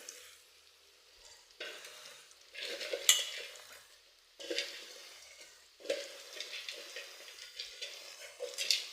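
Toor dal tipped into boiled water in a pressure cooker for a simple bassaru, heard as several soft bursts of pouring, bubbling and stirring in a quiet kitchen.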